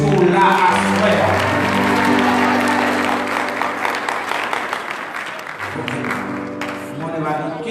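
Applause and cheering from a congregation at a Haitian Baptist church evening, a full loud wash of clapping with voices sustained over music-like tones, dipping midway before swelling again.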